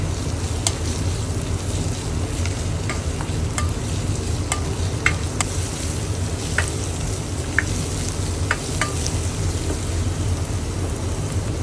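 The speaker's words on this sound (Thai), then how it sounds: "ผัดพริกกระเทียมไม่หอมก่อนเลย" Chili and garlic stir-fry in a hot pan for crispy pork basil, with a steady dense sizzle and scattered sharp clicks of a utensil scraping and tapping the pan, close and without talk.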